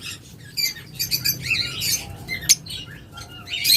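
A red-eye lutino pair of Fischer's lovebirds gives sharp, scattered chirps and squawks at close range over a low background hum, with bursts of calls coming in quick clusters.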